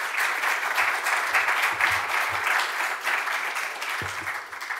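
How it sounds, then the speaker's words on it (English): Applause from the audience at a paper launch for three speakers, a full, steady patter of many hands, with a few low thumps mixed in near the start and end. "Could we start with a round of applause for our three speakers"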